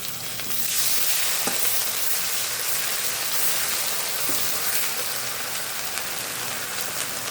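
Ginger, cumin and garlic paste frying in a pan for a duck curry with papaya and bottle gourd, a dense steady rain-like sizzle, close and loud, with a couple of soft stirring knocks.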